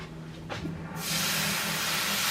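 A loud, steady hiss bursts up suddenly as chicken hits hot oil and keeps sizzling close by.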